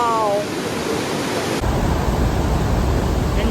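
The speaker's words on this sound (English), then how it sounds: "Enjoying the drizzle over here of the Murchison Falls of Nile River." Murchison Falls on the Nile River roars as a loud, steady wash of falling water that swells and thickens partway through, with a brief voice at the start.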